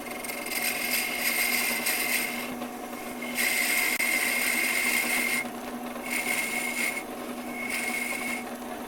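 Spindle gouge scoring the surface of a piece of wood spinning on a woodturning lathe, giving a steady close scraping, rasping hiss that swells in several long strokes over the constant motor hum.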